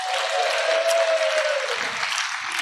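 A church congregation claps steadily through a sermon, a dense sustained wash of applause with a faint tone lingering beneath it.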